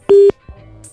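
A telephone busy tone sounds after the caller on a radio prank call hangs up: a single loud steady beep, then a fainter low hum with a brief high click at the end.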